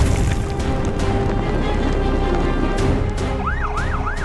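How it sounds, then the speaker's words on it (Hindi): Cartoon emergency sirens from a red fire truck and a blue police car respond to a forest fire, a wailing up-and-down siren rising near the end over a dense, loud rumbling bed of noise. "सायरन की गूंज शांत हवाओं को चिरती हुई आगे बढ़ती है।"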